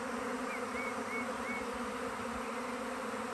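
A swarm of bees flying near a hive at a rural homestead fills the scene with a steady, dense buzzing hum that stays loud and even throughout, with no talk over it.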